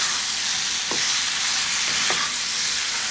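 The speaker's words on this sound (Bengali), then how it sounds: "দু তিন মিনিট সবজিটাকে ভালো করে তেলের মধ্যে এইভাবে নেড়ে নিলাম।" Vegetables with raw mango stirred in hot oil for an uncurried sour-spicy vegetarian dish, giving a steady loud sizzle with a few brief scraping stirs of a spatula against the pan.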